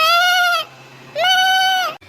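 Goats bleat twice in loud, drawn-out, wavering calls close by, each lasting about half a second to a second with a short pause between, while a herd is driven out to graze near a lake on a hot midday.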